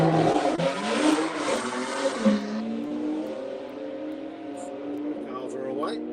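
Race cars launch hard at a drag strip's run-what-you-brung session, a loud roaring burst of engines that sweeps away and fades into a distant revving drone while an announcer talks over it.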